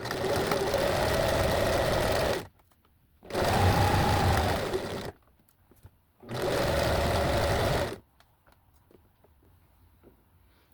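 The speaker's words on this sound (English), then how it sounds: "sewing machine in on the action." A sewing machine stitches a long sweatshirt seam in three close, loud bursts of rapid mechanical whirring, each about two seconds long, separated by short pauses.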